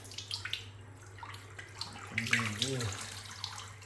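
Tap water runs in a rustic room at Sepilok, Borneo, a soft steady splash that carries through the whole stretch while a voice talks briefly over it midway.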